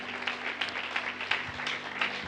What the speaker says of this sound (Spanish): Démosle un aplauso al Señor en esta hermosa mañana.